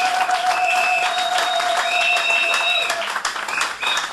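A church congregation applauds, a dense steady wash of clapping with some cheering and voices mixed in throughout, loud and sustained.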